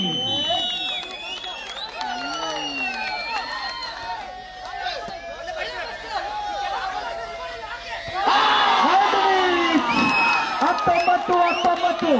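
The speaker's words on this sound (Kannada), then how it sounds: "ಪ್ರೇಕ್ಷಕರ ಕೂಗು ಚಪ್ಪಾಳೆ ಈಗ ಬರಲಿ" Spectators at a men's open volleyball tournament shout, whoop and cheer, a busy crowd roar that swells loudly toward the end, with voices calling over it.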